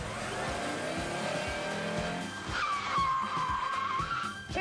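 A sports car pulls away with its tires squealing as the engine roars. A rough motor rumble builds, then a sustained, slightly wavering tire screech cuts through for over a second. There are no voices.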